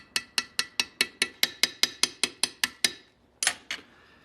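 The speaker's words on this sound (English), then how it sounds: "This little hammer is going to forge the end of this pin so that it's wider than the hole, and that will set the rivet" A small hammer peens the end of a rivet pin to set it, a rapid even run of about fourteen bright metallic taps, then a short pause and two more strikes, close and crisp.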